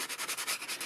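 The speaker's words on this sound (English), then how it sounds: "gently sand, and any extra bits will come off. Just sand the edges." A sanding block rubs paper edges in quick back-and-forth strokes, a soft, steady scratchy rasp repeating about a dozen times in a second, close and faint.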